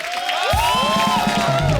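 A TV show audience breaks into applause and cheering, a dense, close burst of clapping and shouts blended with louder voices over the top.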